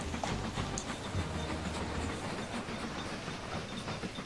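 A train in the Mashinky railway-building game rolls steadily along its rails, a continuous rumbling clatter with faint hiss that holds at an even level throughout, with no talking.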